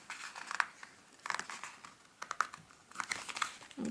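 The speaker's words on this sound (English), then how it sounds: "I'll try and fold it evenly." Sheet of paper being folded into an origami face mask, with soft crinkling and creasing rustles coming in short bursts, close and quiet.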